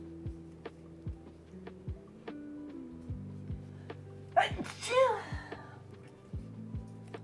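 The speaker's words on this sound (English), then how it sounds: "so my apologies for sneezing" One person sneezes around the middle, loud and close, with a sharp burst, while steady background music plays throughout.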